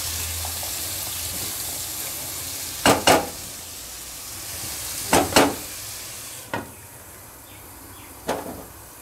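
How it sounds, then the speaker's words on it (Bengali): Spices for fish curry fry quietly in a pan, a soft sizzle broken by several sharp stirring scrapes and clinks at irregular intervals, close and without talk. "এটা একটু ভাজা হোক"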